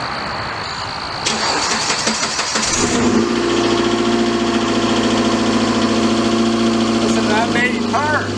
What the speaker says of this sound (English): let's get a cold start up on the 2008 Jeep Compass